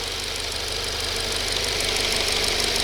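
A 2024 Subaru Legacy engine warms up at idle, a constant close mechanical hum with a faint knocking rattle throughout.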